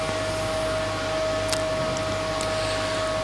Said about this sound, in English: Now we are prepared to start the transmission unit